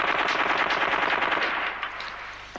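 Machine gun fire in the 1989 film Meet the Feebles, with a loud, rapid sustained burst that holds steady and then trails off into a fading echo near the end.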